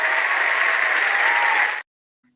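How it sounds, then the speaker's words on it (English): Loud, dense burst of applause rings out for under two seconds, then cuts off abruptly into silence. "you are going to get the big clap too"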